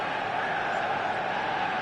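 Stadium crowd at a football match in a video game, a steady, dense roar of massed voices filling the whole moment without a break or swell.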